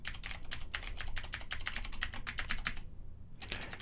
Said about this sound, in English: Let me type in that multi-dot email address again.